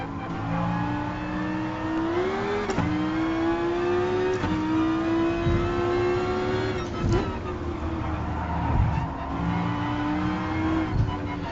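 A race car engine in the video game Gran Turismo Sport revs hard and steadily, its pitch climbing and dipping through quick gear shifts over about eleven seconds, loud and continuous.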